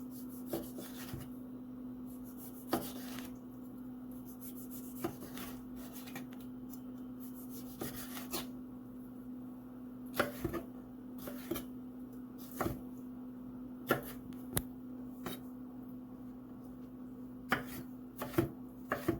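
A knife chops tomatoes on a cutting board: a series of sharp, irregular taps and knocks, close and moderately loud, spread across a quiet kitchen background with a steady low hum.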